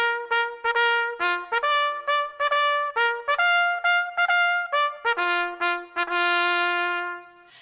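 Military tattoo music: a brisk, steady melody of bright sustained wind tones, each note struck with a sharp percussive attack like drum beats, loud and close throughout with no talking.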